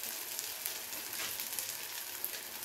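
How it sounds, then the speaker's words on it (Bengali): Onion, ginger and garlic fry together in hot oil in a pan, giving a steady, close, crackling sizzle with no pauses and no voices. "যখন পেঁয়াজটা খুব সুন্দরভাবে আদা রসুন একসাথে ভাজা হয়ে যাবে"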